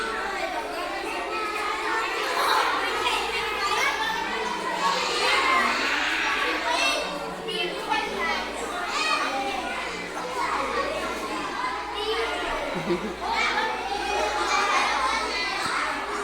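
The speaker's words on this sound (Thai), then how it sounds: "เด็กๆตื่นเต้นเสียงเจียวเจ้าเลยนะคะตอนนี้" Crowd of excited children chattering and shouting noisily at a school in Sakon Nakhon, Thailand, while waiting to board a bus for a field trip; a dense, continuous close babble of young voices throughout.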